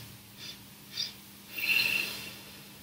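Three short nasal sniffs taken in during a yoga breathing exercise, the first two brief and evenly spaced, the third longer and stronger, close and fairly quiet over a low steady hum.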